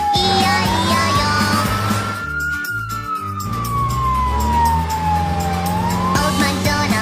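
Fire truck siren wailing in slow, rising and falling sweeps, loud and close, over a rumbling engine and background music.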